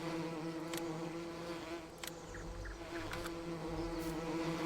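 Bees buzzing steadily around hives in the Farming Simulator video game, a continuous droning hum with a few brief clicks overlaid.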